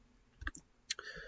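Several light plastic button presses on a calculator while working a z-score probability problem, a few quick close clicks spread over about a second and a half.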